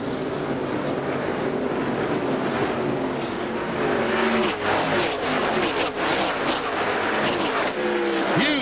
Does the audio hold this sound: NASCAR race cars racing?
yes